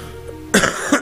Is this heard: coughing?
yes